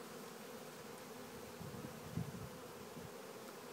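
Social bees buzzing close by, a faint continuous low drone with a slightly louder pass in the middle, no voices.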